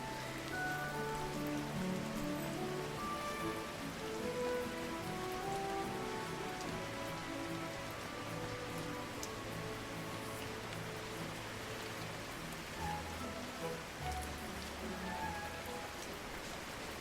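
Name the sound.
rain falling in a video game, Kitaria Fables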